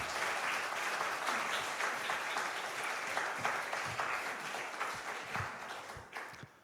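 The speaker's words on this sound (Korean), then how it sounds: "목사님 나오실 때 이거 환영의 박수를 한번 보내드리도록 하겠습니다." A church congregation at a Sunday worship service applauds to welcome the pastor to the pulpit. Steady, dense clapping from many hands runs throughout and fades slightly at the end, heard from a moderate distance.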